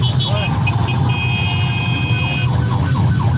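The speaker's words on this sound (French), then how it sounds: "On a activé la sirène, les mecs." A siren wails at a motorcycle protest in Paris, its rising and falling tones heard over engine rumble and crowd noise, fairly loud and close for a few seconds.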